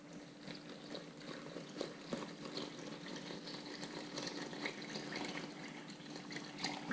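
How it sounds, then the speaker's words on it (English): Water poured slowly into a bowl of cornmeal for arepa dough, a soft continuous trickle and splash running steadily throughout, close by and fairly quiet. "And then slowly pour the water in."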